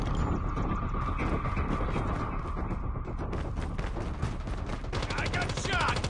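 Gunfire in the Call of Duty Warzone video game: rapid bursts of shots and mechanical clatter run throughout, steady and fairly close, with a denser burst near the end.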